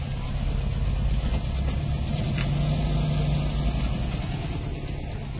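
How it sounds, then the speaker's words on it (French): A Volkswagen Beetle rolls up at a street car gathering, its engine running with a steady, rumbling mid-pitched drone that holds throughout, surrounded by outdoor crowd noise. "Là, une coccinelle qui arrive."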